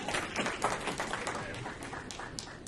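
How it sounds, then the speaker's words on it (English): An audience at a stock market presentation gives a round of applause, a quiet, fairly distant patter of many hands clapping that slowly thins out toward the end. "that's another round of applause"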